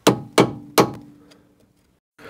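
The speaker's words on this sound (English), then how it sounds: "Some knocking is going on. The long bridge hammer is out." Three sharp metallic strikes from a long bridge hammer knocking on a seized part of an Audi A4, evenly spaced about half a second apart, each ringing briefly before fading, then a faint fourth knock after a pause.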